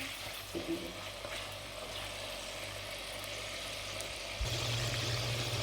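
Chicken frying with a little cumin for Lahori murgh cholay, a quiet, close sizzle with faint stirring scrapes that swells louder near the end.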